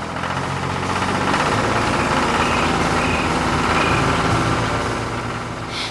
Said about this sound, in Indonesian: Traktor besar dengan ban lebar berjalan di atas tanah yang telah diolah.